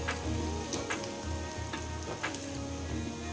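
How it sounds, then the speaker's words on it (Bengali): Fritters (bora) frying in oil over low gas, a steady close sizzle with crackling pops throughout, no voices. "গ্যাসটাকে কম করে দিয়ে ভাজতে হবে।"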